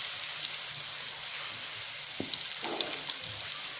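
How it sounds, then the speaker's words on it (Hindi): Garlic ginger paste frying in ghee, a steady bright hiss with faint crackles and a couple of soft knocks, close and alone. "सबसे पहले इसके अंदर डालूँगी मैं लहसुन अदरक का पेस्ट 1 टीस्पून। 1 मिनट इसको घी में हम पका लेंगे।"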